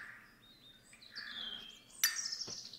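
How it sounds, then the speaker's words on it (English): Birds chirp in the F.E.A.R.S. video game, a few faint, thin tweets and calls in quick succession over a quiet background, ending with a sharper, brighter chirp. "I hear birds. Birds are nice."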